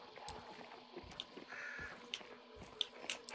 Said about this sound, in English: Oh, fucking hell, there's crows right there.